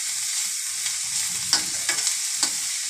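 Noodle filling with pepper and noodle masala being stirred in a hot pan, a soft continuous sizzle broken by several sharp spatula scrapes and clinks near the end.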